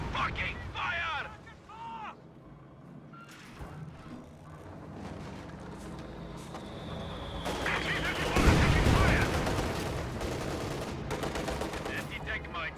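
A WWII real-time strategy game battle with mortars and infantry: bursts of gunfire and booming explosions, loudest near the middle, under continuous excited commentary.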